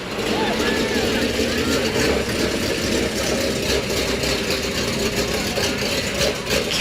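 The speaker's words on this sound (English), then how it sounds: "I hear a hot rod coming." A hot rod's engine idles with a low, steady rumble at an outdoor Christmas parade, sustained and loud, with people talking over the crowd noise.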